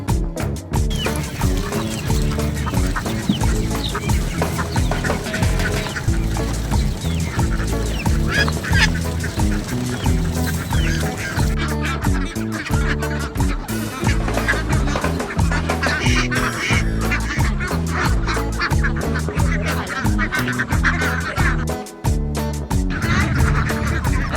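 Ducks at a Pateros duck farm raising ducks for balut, a dense and continuous flock chorus of quacking and honking calls kept up loudly throughout, with no talk.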